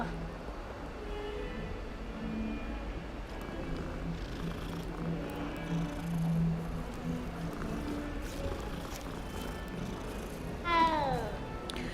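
A cat being petted in Hogwarts Legacy purrs steadily at low level, with a short rising meow near the end and faint background game sounds.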